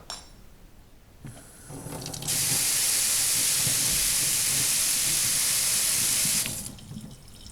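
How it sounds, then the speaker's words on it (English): Eggplant seeds get rinsed in a strainer under a running kitchen tap, a loud steady hiss and splash of water that starts up, holds for several seconds, then stops. "you're just going to put this in the strainer to rinse off the pulp"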